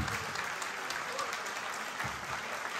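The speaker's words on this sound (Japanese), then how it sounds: "改めまして大きな拍手をお願いします。" Sustained audience applause fills the space after a Latin jazz ensemble's set at an outdoor jazz festival in Fuchu, a dense even clapping wash with no voices on top.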